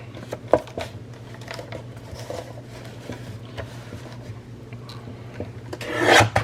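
A book page being trimmed to size, a steady dry rasping and rubbing of paper against a cutting edge, close and continuous over a low hum, with a louder crinkling burst at the end.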